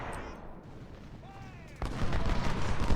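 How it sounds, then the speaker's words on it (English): Artillery fire in the Ultimate General: Civil War game during a battle at Bayou Fourche, heard as a dull rumble, a whistling shell and then a loud sustained burst of cannon and gunfire. "That artillery worries me just a little"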